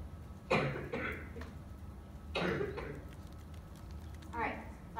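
Three separate coughs, close and sharp, with short quiet gaps between them.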